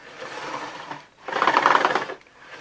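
Loud, rough rolling noise from a Dirt Devil Power Max Pet vacuum cleaner pushed across the floor, rumbling in two strokes with a brief pause between them.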